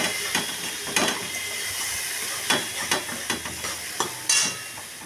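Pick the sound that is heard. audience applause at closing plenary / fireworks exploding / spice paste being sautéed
spice paste being sautéed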